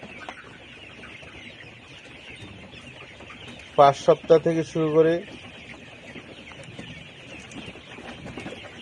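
Layer hens cluck in a short burst of several quick, fairly close calls over steady background noise, with someone speaking before and after.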